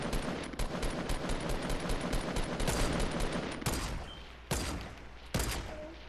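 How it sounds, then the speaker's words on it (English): Rapid automatic gunfire in the video game Fortnite, dense sustained bursts that break into shorter volleys toward the end, loud and close with no talk over it. "Oh, he's shooting me."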